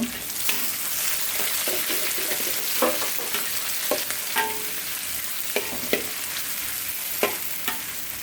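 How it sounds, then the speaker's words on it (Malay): Food sizzling in a hot pan while a utensil scrapes and clanks against it at irregular intervals, close up, as ingredients for sweet and sour prawns are stir-fried. "Kita tumis sekejap."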